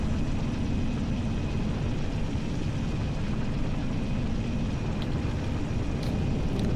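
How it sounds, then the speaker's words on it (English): A helicopter in the Halo Reach video game, a steady low rotor drone that holds at an even level throughout, with faint clicks near the end and no talking. "Het lijkt erop alsof het nog een chopper is."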